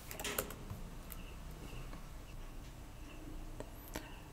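Someone types a password on a MacBook keyboard: quiet, irregular key taps at close range against a faint background hiss, with no speech.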